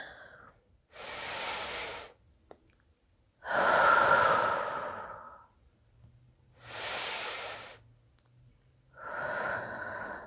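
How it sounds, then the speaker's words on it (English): Deep, slow breaths in and out during a yoga session in bed, with several long airy inhales and exhales separated by quiet pauses, close to the listener. "Taking deep breaths in and out."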